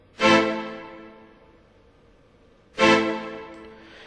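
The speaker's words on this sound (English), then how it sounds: "It's just a string hit." Two sharp orchestral string stabs, each a bright, full chord that rings out and decays, separated by a short pause.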